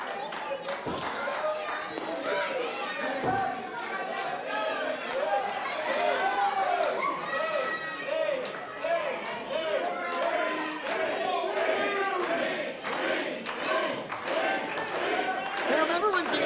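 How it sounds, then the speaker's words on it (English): A wrestler is slammed to the mat with a fireman's carry into a Death Valley driver, a sharp thud standing out over a loud, steady arena crowd chattering and cheering throughout. "Fireman's carry into a Death Valley driver by Devin Cruz."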